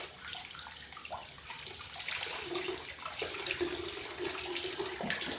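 A bathtub fills with water from a running tap, a steady close rush of water that grows fuller partway through, with no talk.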